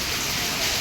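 Heavy rain pours down in Mumbai as a steady, dense hiss of water, close and even throughout the short stretch.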